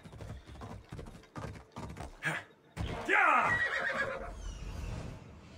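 A horse whinnies loudly in a video game, a long rising and falling neigh that follows hoofbeats and a voice.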